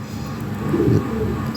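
A pair of young toy Lahori Sirazi pigeons coo, giving one low, throaty coo up close that swells midway through the brief sound.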